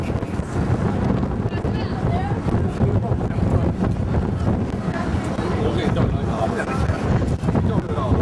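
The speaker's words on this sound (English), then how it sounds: "It's windy up here." Wind gusting high up on a tower 1,000 feet above a harbor, a loud steady roar of buffeting on the microphone throughout, with voices faintly mixed in.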